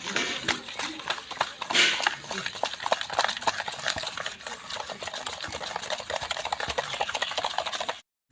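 Cake batter with milk powder and salt being stirred by hand in a bowl, a steady run of scraping, tapping strokes close by that stops abruptly near the end.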